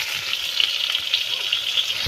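Potatoes fry with onions and tomatoes in a wok, giving a brief, bright, even sizzle with small pops and no talking.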